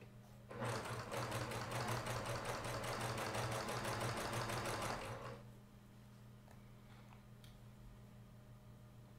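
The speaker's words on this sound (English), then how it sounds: "I just let the machine do what it's supposed to." A sewing machine stitches quilt fabric rapidly and steadily for about five seconds, loud and close, then stops, leaving a low steady hum.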